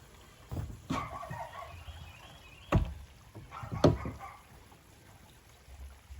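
An RV black tank drains through the dump valve into a sewer hose, making a low, irregular gurgling rush with a few louder surges and splashes, close by and with no talking.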